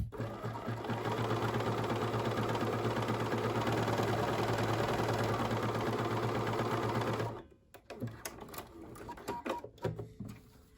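A Bernina 535 sewing machine running a step zigzag stitch on fabric, a loud, close, continuous mechanical whir at steady speed for about seven seconds before stopping abruptly, followed by softer handling clicks and rustles.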